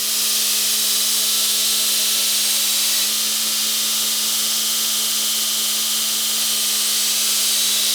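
Belt grinder running steadily on the spine bevel of a 1000-layer Damascus steel katana, a continuous bright hissing whine with a low hum, unbroken for the whole stretch and heard alone.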